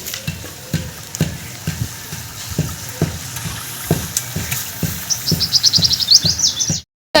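Masala with aloo bukhara (dried plums) and chicken fries in a pan under steady sizzling, with a regular rhythm of stirring scrapes close up; birds chirp in the background toward the end and there is no talk.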